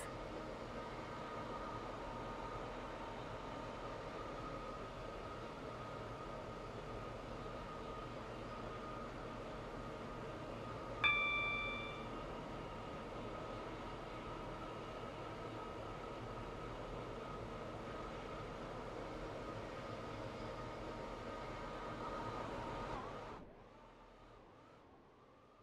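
A Stepford Connect train in the Stepford County Railway game hums and rumbles steadily for more than twenty seconds, with a brief chime partway through, before the sound drops off near the end.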